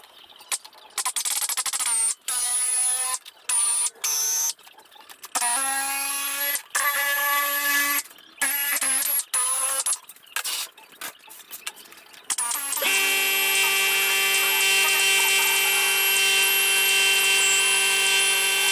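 Loud, harsh whining and screeching as sheet metal for a carburetor pan on a Camaro is cut with a power tool, in many choppy bursts and then a long sustained ringing cut, with no talking.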